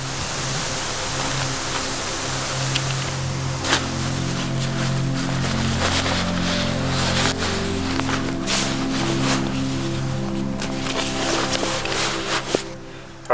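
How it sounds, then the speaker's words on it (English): Strong, gusty wind blows across a riverside campsite in Murray cod country, a loud, broad, constant roar with rustling and flapping gear mixed in throughout. "It's like quite strong winds at the moment."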